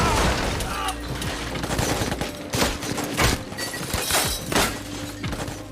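Heavy gunfire in an action film, with dense bursts of shots and crackling impacts, loud and close, with shattering debris mixed in under a narrator's voice.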